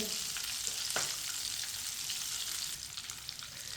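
Shami kababs frying in a pan give off a steady, close sizzle that runs the whole time, with a brief sharper crackle near the start and no voices.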